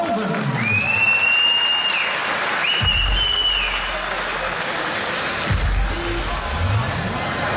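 Crowd applause at a kickboxing fight night after a technical knockout win, loud and continuous clapping and cheering from the arena audience, with rising whistle-like tones and low booming thuds layered over the crowd.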